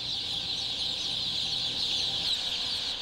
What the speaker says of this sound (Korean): 병아리들은 여기서 한 달 동안 각각 키워질 예정이다